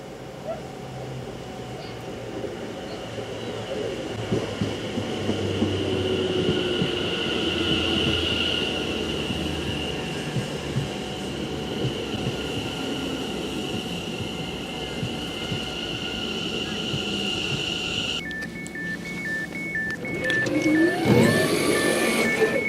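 A train rumbles and hums steadily alongside a platform, wheels clattering and squealing, then brakes hiss and a high electronic tone sounds near the end.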